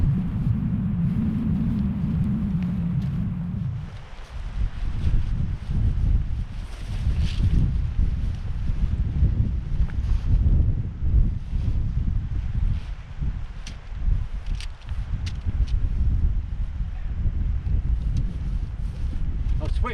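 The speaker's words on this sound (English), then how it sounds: "Not sure you're going to be able to hear me over this wind." Strong wind on open hills batters the microphone with loud, continuous buffeting rumble and gusty roar, and someone talks through the noise, partly masked.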